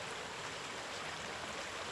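A fast-flowing creek in rural Tasmania at summer's end gives a steady, even rushing hiss of moving water, heard alone without any voices.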